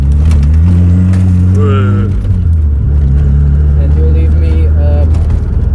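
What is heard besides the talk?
Mazda RX-7 FC car engine revving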